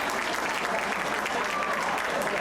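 Teammates and fans cheer and clap at the finish of a varsity high school swim meet, a dense steady roar of applause and crowd voices filling an indoor pool hall.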